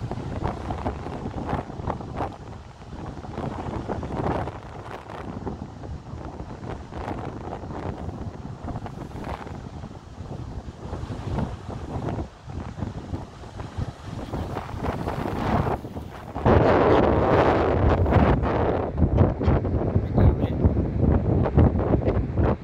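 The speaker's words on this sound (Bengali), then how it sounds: "অনেক বাতাস, অনেক ঠান্ডা।" Strong seaside wind at Praia da Rocha, Portimão, Algarve, roars and buffets the microphone continuously, with rough surf rushing underneath, growing louder near the end.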